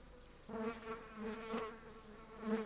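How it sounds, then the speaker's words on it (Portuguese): Flies buzz in the horror game Martha Is Dead: a faint, continuous insect drone that swells and fades as it wavers, heard alone without speech. "Escutando barulho de moscas."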